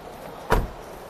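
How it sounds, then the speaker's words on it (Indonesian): Door handle of a 2018 Suzuki Jimny pulled once, giving a single short mechanical clack and latch thunk in the middle of an otherwise quiet stretch, close and fairly loud. "ini handle pintunya"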